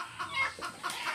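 White pheasant or chicken held near a forest hunter's camp gives a few soft, quick clucks in short bursts, faint and close, with no talk over it.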